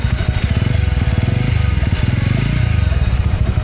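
Motorcycle engine running steadily and loud in the rain, with a dense, rapid, evenly pulsing low throb that holds throughout.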